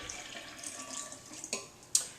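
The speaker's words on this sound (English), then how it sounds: "So we're going to put this in the blender. I'm going to start off with putting in about 2 cups of water." Water poured into a Vitamix blender for a vegetable cracker batter, a soft continuous splashing stream with two brief sharper splashes near the end, close and fairly quiet.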